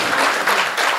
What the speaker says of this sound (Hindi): एक बार जोरदार तालियां बजा देंगे